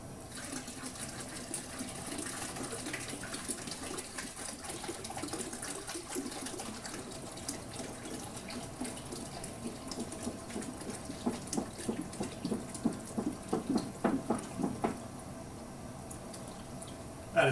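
Water runs steadily into a large brew kettle being filled for boiling on a homebrew day for a smoked rauchbier, a continuous faint splashing rush with sharper splatters building toward the end.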